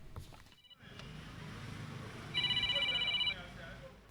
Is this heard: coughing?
no